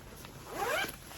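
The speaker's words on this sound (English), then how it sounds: "The other side has a zipper pocket right there." The zipper on the pocket of a Hello Kitty JuJuBe bag gives one quick, quiet rasping pull lasting under a second, close by.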